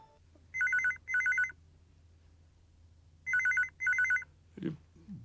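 A telephone bell rings in two paired bursts of trilling electronic chirps separated by a quiet pause, fairly close in a hushed room, followed by a faint knock or handling sound.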